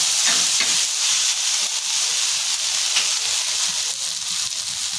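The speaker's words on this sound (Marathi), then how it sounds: "थोडी कोथिंबीर घालून घेऊया आणि पुन्हा आपल्याला ते परतायचे" Ginger-garlic paste and coriander sautéing in a hot pan for a masala omelette, giving a continuous bright hiss and sizzle with faint stirring scrapes throughout.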